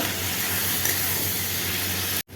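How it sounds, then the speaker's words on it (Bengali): Capsicum being sautéed in a hot pan with oil: a steady, loud broadband sizzle and hiss that runs nearly unbroken, then cuts off abruptly near the end. "এবার আমি ক্যাপসিকাম দেব, ক্যাপসিকামটাকে ভালো করে কষিয়ে নেব।"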